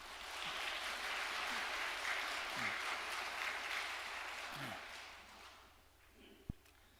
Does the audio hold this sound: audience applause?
yes